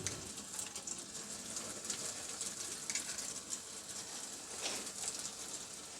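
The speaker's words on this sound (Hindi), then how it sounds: "अब हम 2 स्पून लेंगे और इसकी मदद से हम इस मेज़े को थोड़ा थोड़ा करके इसमें डालकर फ्राई कर लेंगे" Puff batter dropped spoonful by spoonful into hot oil, frying with a steady, faint crackling sizzle that runs on its own.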